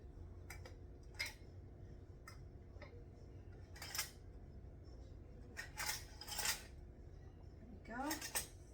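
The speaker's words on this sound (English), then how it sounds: "now I'm going to go ahead and put my lids on" Metal canning lids clink and tap onto glass jars of homemade sloppy joe in a series of light, irregular clicks, with a quiet kitchen hum underneath.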